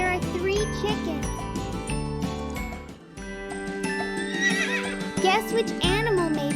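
Farm horses whinny and neigh over cheerful jingling children's music, with a faint clip-clop of hooves and a prominent neigh near the end.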